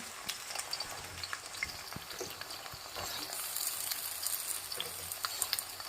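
Pieces of pointed gourd fry in a pan for a vegetarian dish, giving a steady, dense sizzle and crackle with scattered sharp pops and occasional stirring, close by and without talk.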